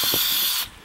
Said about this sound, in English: I'm going to waterproof these connections here by just spraying it on.